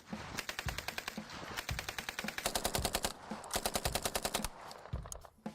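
An MP40 submachine gun fires through the open top hatch of a tank in several loud, close bursts of rapid automatic shots, with short pauses between strings and no talk.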